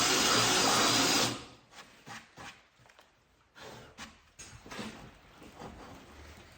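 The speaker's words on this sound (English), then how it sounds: "I got a drill bit. I think it is big enough for a rebar, so I'm just gonna do a test hole and test it." A power drill bores a test hole sized for rebar while building a raised planter box. It gives a loud, steady whir for about a second, then a run of short, quieter bursts as the bit reams the hole.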